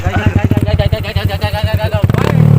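A motorcycle engine putters past on a mountain hiking trail, its rapid rhythmic chugging close and loud before rising into a higher rev at the end.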